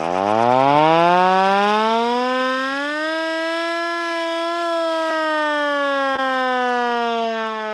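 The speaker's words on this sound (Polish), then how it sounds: "To będzie głos naszej ręcznej syreny." A hand-cranked siren in the Polish village of Zaraszów winds up from a low growl to a sustained wail, holding its pitch before slowly sagging, loud and alone.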